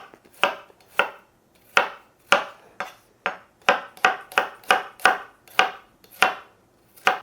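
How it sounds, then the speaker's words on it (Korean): Garlic is sliced with a knife on a cutting board, a sharp close knock repeating about twelve times in an uneven rhythm against near silence. "마늘 슬라이스 해주시고요"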